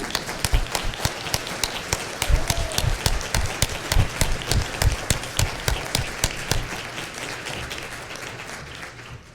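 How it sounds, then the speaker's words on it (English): An audience at a cystic fibrosis research conference breaks into sustained applause, dense overlapping claps swelling and continuing steadily for several seconds before thinning slightly toward the end. "And if you've been looking for a place to clap,"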